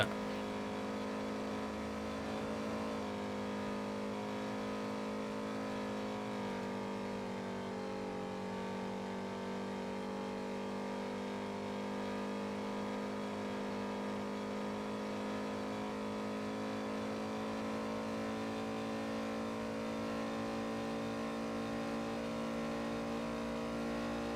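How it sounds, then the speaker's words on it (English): A car engine revs and accelerates hard, a steady mid-pitched drone with shifting tone that carries loud and continuous for the whole stretch, with no talk over it. "How fucking fast was that car going?"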